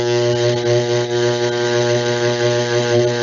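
NDT magnetic yoke energized on a weld, a loud steady electrical hum with strong harmonic buzz, continuous and close, without pauses.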